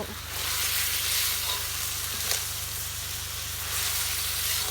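Eggplant sizzles and fries in a pan while cooking over a candlelit fire in Kengtung, a steady broadband crackle and hiss holding level throughout with no voices.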